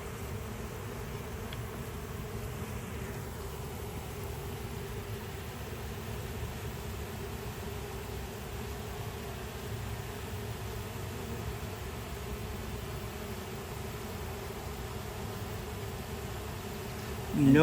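Honeybees buzz as a steady, dense hum that fills the air around an open hive during inspection, continuous and close.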